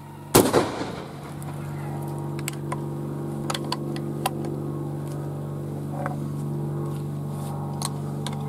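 A single loud, close rifle shot from an 1873 Trapdoor Springfield loaded for grouse without a shot cup, with a sharp crack that decays quickly into a steady low hum and a few faint clicks.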